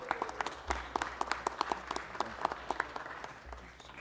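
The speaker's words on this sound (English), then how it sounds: "Another big round of applause for our folks at the Center Theater Group." An audience in a city council chamber applauds for several seconds, a dense run of sharp claps with a few louder hand claps standing out, moderately near and without speech.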